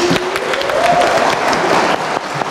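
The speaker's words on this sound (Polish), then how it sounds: "wielkie brawa należą się opiekunom merytorycznym zespołów, czyli pani Justyna Całczyńska" Audience at a film debate event applauding, a brisk dense patter of many hands, steady and fairly close, tapering slightly near the end.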